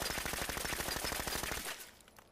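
A 10mm automatic pistol firing in Fallout 4, a rapid sustained burst of many sharp shots in quick even rhythm that stops abruptly, leaving a short fading echo.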